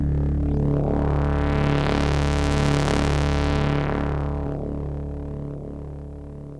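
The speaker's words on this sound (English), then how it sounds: "the sample that we spoke about that ended up getting resampled into the Classic sounds like this" A gritty, fuzzy synth sample resampled on an Ensoniq EPS Classic plays a loud, harsh sustained tone. It has a throbbing pulse and a swelling, distorted upper band that fades slowly, with no voices present.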